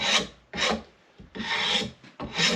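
Sandpaper rubbed over a wooden axe handle: four close, loud rasping strokes in a steady back-and-forth rhythm, separated by short pauses, with no talking.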